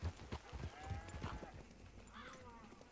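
Hooves beat in a quick galloping rhythm as a horse sets off in Red Dead Redemption 2, close and fairly faint, with a brief vocal sound from a character mixed in toward the end.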